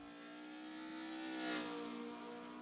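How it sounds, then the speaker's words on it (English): Racing cars in lap traffic pull out of the pit lane at Castle Combe in a 1990s BTCC round, a steady droning engine note that swells briefly as one passes, then eases, heard at a moderate distance. "Now we hear some lap traffic still coming out of the pit lane ahead of Macca."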